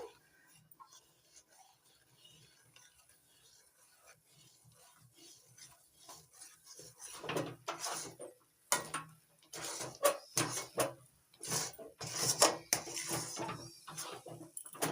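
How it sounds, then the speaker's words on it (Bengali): Rice flour being stirred into boiling water in a pot, with a faint start that grows into repeated scraping and knocking of a spoon against the pot, close by. "এখন আমি অল্প অল্প করে আতপ চালের গুঁড়ো দেবো আর নাড়তে থাকবো"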